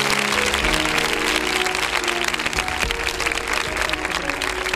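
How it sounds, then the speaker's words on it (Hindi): A church audience at a children's chapel service gives strong, sustained applause, a dense wash of clapping from many hands that holds steady throughout. "उसकी मौजूदगी के लिए जोरदार तालियां"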